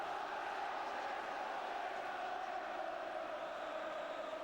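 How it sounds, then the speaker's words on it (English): A football crowd at a Manchester City versus Charlton Athletic match gives a faint, distant, sustained roar, a steady wash of many voices with no distinct calls. "you can hear what the crowd feel about it"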